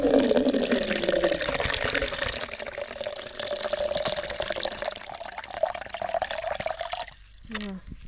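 Water runs steadily from a kitchen tap into a pot for about seven seconds, a continuous rushing splash that stops abruptly, followed by a brief clatter as the pot is moved, all while cooking a meal of cow liver and mashed potatoes.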